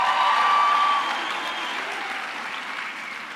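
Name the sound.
graduates applauding at university ceremony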